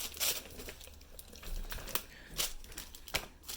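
A plastic bag of boneless, skinless chicken thighs is cut open and handled, giving faint, irregular crinkles and rustles with a few sharper crackles.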